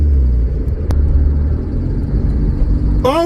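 A K car engine drives along with a loud, steady low rumble that fills the cabin, and a rising whine near the end as it downshifts. Nobody speaks.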